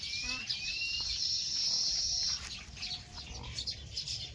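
Birds chirp and whistle in short calls over a steady high insect drone, with a faint low background hum and no talking.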